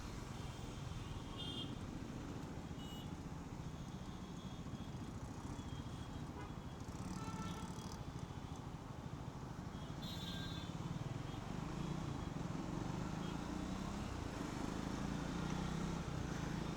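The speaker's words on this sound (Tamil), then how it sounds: "அதனால தான் இவ்வளோ டிராஃபிக் இங்கே." Dense urban road traffic of cars and motorcycles on a busy weekday in Chennai, heard from a moving Triumph Scrambler 400X: a steady, loud rumble with passing vehicles and occasional horn-like tones, no talk.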